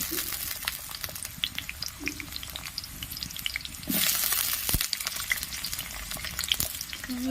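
Pieces of bottle gourd go into hot oil in a pan and fry with a steady crackling sizzle, with stirring scrapes and a brief louder burst partway through, close and without talk.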